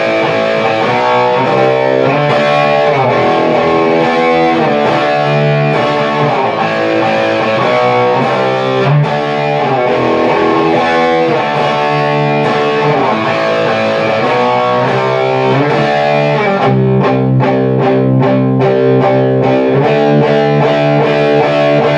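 Heavily distorted electric guitar plays the Holy Water chorus by Bad Company in continuous, loud power-chord strumming that rings on without pause for the whole stretch.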